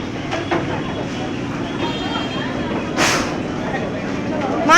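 A train rumbles at a platform amid background chatter, with a brief sharp hiss of air bursting out midway.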